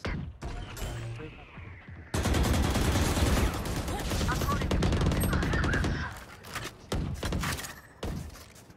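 Rapid bursts of automatic gunfire and sharp shots in the video game Valorant crackle through the clip, with a voice talking in between; a loud sustained volley fills the middle.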